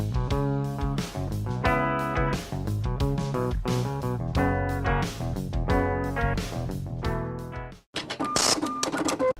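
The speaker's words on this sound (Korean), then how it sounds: "만약 기타를 오디오 인터페이스에 연결해서 그 소리를 그대로 출력해보면 이런 소리가 납니다" An electric guitar plugged straight into an audio interface with no amp plays full strummed chords in a steady rhythm, loud and close, then cuts off and gives way to a brief, brighter, noisy passage near the end.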